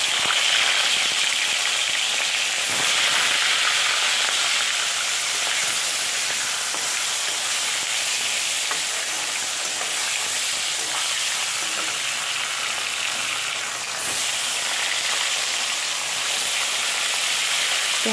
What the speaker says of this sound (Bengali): এখন দেখো মাছগুলো ভাজা, পুরো কড়া কড়া ভাজা করে নিচ্ছি